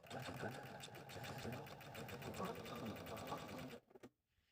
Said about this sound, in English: So go ahead and sew those on now.